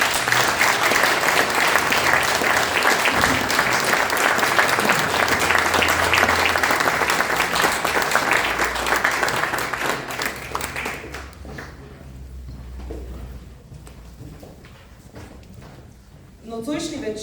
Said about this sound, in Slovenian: Vas pa prosim za en aplavz.